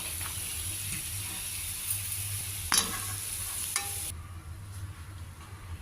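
Peanuts frying in a little oil, with a soft steady sizzle and a couple of brief stirring clatters, close but fairly quiet.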